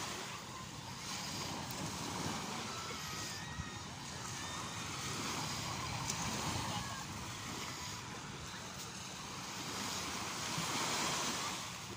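Calm sea waves wash steadily along a shore in a continuous broadband roar, with wind buffeting the microphone throughout and no distinct breakers standing out.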